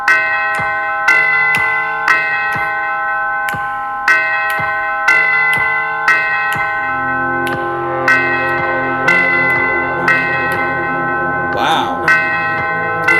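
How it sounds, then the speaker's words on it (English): A bell melody in a song rings out as a series of bright, regularly spaced chimes with sustained tones beneath, loud and close. "The bell melody."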